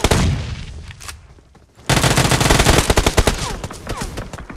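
Gunfire in PUBG Mobile, a sharp loud burst that fades out, a brief lull, then sustained rapid machine-gun fire with distinct repeating shots, very close and loud.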